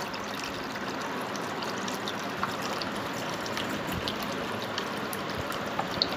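Water flows steadily through a small homemade fountain with a Buddha statue, giving a continuous soft trickling and splashing that stays even throughout with no voices.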